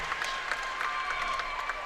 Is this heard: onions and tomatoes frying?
no